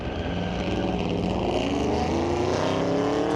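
A 2017 Maserati and a 2009 Dodge Challenger drag race at Mission Raceway Park during Friday Night Street Legal drags, their engines a loud, steady, rising roar heard from a moderate distance.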